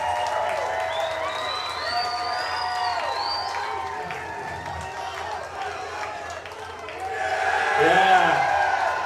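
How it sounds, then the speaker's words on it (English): Crowd applause and cheering for the team owners at a collegiate baseball championship trophy ceremony, rising near the end beneath someone speaking over a PA. "Give a big round of applause for Tracy and Cam Young."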